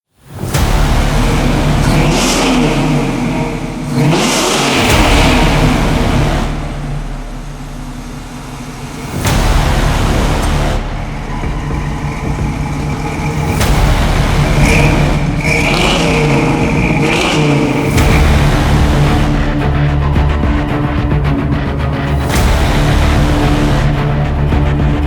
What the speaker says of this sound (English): we are gonna go take a little cruise in my pride and joy, the 68 Camaro.